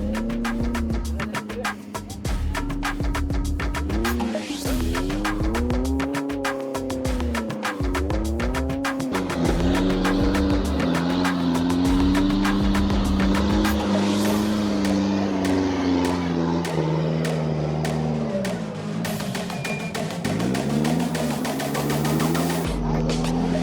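An off-road 4x4 vehicle at the starting point of the Sahyadri Offroad Challenge 2026 mud track roars loudly and close, with its engine revving up and down in repeated surges.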